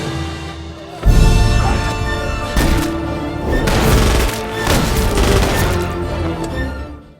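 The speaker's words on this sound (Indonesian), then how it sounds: "tembakan telah menghujani si Nazi itu dari berbagai penjuru" Gunfire sound effect of shots raining down on a Nazi soldier, a series of heavy booming impacts and crashes layered under music, loud and dense with no voices.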